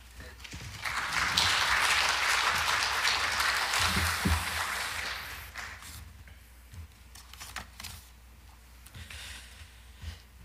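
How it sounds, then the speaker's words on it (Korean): An audience at a church presbytery teachers' training lecture applauds to welcome a visiting professor. The clapping swells loud for several seconds, then fades and thins out, and a voice follows near the end. "교수님 나올 때 우리 감사의 박수로 맞이하겠습니다"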